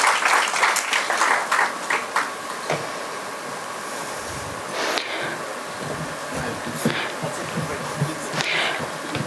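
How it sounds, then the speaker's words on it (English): An audience claps steadily to welcome a speaker onto the stage at a lecture on black holes. The dense, crackling applause stays fairly even for about nine seconds, with a few louder bursts of clapping and no talk over it. "Let's all extend a huge round of applause to welcome Dr."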